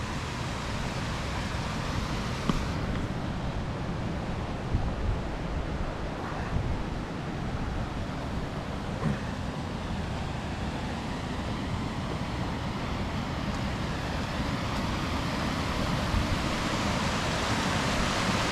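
Mountain runoff water rushes steadily along Clear Creek in a county park, a continuous broad roar of flowing water with a breezy rumble and no speech.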